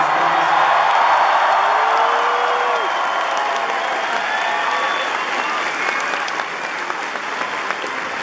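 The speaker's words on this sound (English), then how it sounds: "Make some noise for yourselves for being an amazing audience." A large concert audience applauds and cheers steadily for a show in Chile, dense clapping with scattered whoops and shouts filling the whole stretch at a loud, even level.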